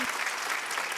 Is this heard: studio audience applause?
yes